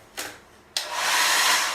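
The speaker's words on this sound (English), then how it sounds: "Not the world's best hairdryer" A hairdryer in a holiday apartment bathroom roars on with a sharp start, after a brief earlier burst, then blows steadily and loudly close by with a broad airy whoosh.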